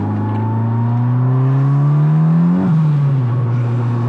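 Turbocharged car engine revving hard in second gear under light load, pitch climbing steadily as boost builds, then dropping sharply on the shift or lift, loud and close throughout.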